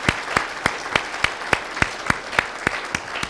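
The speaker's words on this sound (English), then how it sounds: "let's all give it one more round of applause." A round of applause for a speaker after a presentation and discussion, heard as a single pair of hands clapping in an even, steady rhythm, about a dozen crisp, close claps in a row.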